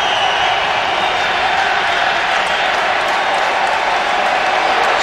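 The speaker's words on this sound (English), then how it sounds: "This crowd's come alive, Tom." Loud, steady roar of a stadium crowd cheering at a 2009 NFL game between the Chicago Bears and Detroit Lions, a dense continuous wash of voices with no breaks.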